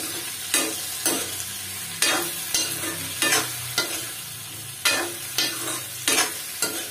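Spices and coriander powder stirred into frying tinda (round gourd) in a pan: repeated scraping strokes at an even rhythm over a steady close sizzle, no voices.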